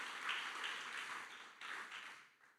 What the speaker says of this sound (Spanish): Dale esa ofrenda de aplauso al Señor en esta tarde, en esta noche.